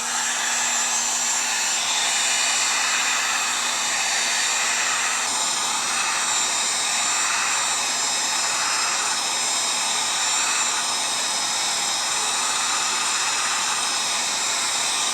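A heater warms a thin plastic sheet on a homemade vacuum forming machine, giving off a steady, loud broadband whoosh like a hair dryer that holds constant throughout with no talking.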